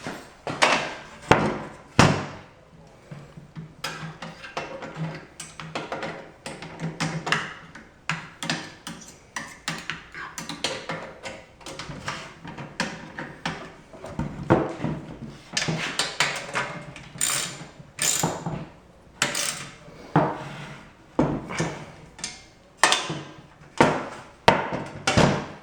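Allen wrench working on a Rubi tile cutter during a repair, giving a series of sharp metallic clicks, ticks and knocks close by, with irregular bursts of tool contact and handling noise and no talking.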